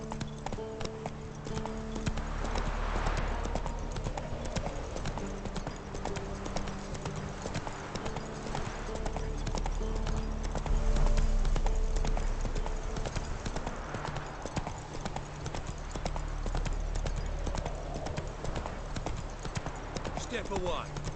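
Steady clip-clop of horse hooves in the video game The Witcher 3, a continuous rhythmic trotting over a low ambient bed, with spoken voices throughout.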